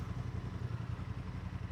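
A 2023 Honda Transalp XL750 twin idles in neutral at close range, giving a steady, even low-pitched burble with a light mechanical clatter and a constant loudness.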